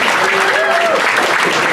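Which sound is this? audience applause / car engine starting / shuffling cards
audience applause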